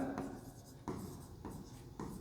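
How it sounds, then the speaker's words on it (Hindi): Chemistry notes are written by hand in quick, rhythmic scratching strokes, with several short bursts at steady intervals, quiet and close, with no talking. "तो लिखेंगे"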